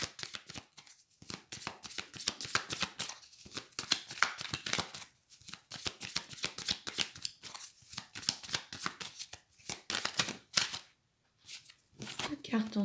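Tarot cards are shuffled by hand in a steady, rapid riffle that runs for more than ten seconds, with quiet speech over it and a brief pause near the end where some cards jump out of the deck.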